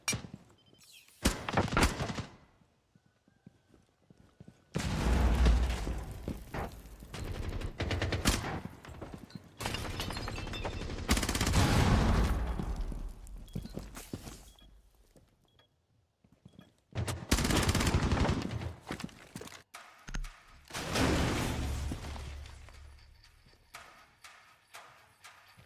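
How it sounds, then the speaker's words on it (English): Gunfire in Rainbow Six Siege comes in several loud separate bursts of rapid shots, split by quiet gaps, with some heavy low thumps mixed in and no talk. "actually just starts shooting him through the wall"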